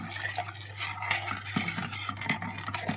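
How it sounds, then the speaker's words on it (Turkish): A spoon stirs pudding mix into milk in a pot before the stove is lit, giving soft repeated scraping and light clinks against the pan, steady and close, with no talk. "Önce pudingle sütü güzel bir şekilde karıştıralım."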